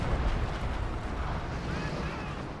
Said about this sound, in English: Got 220mm mortars here.